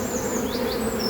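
Dense honeybee buzzing hums close and steady as hive frames are moved while captured swarms are settled into a new hive, with a few individual bees whining past near the microphone.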